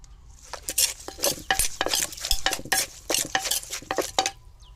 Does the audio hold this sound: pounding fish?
yes